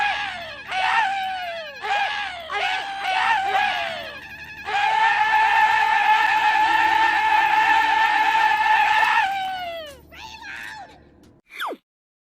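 A screaming gun from the video game Borderlands 2 lets out a long run of shrill, wailing shrieks, first in short bursts and then one sustained howl, loud and close, ending in a few sharp cries.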